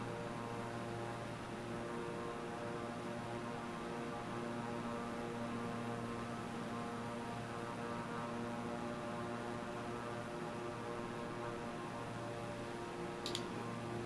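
Steady, droning propeller engine of a Beechcraft aircraft in flight in a flight simulator over Japan, a constant hum with firm tonal lines, unbroken for the whole stretch, with no voices.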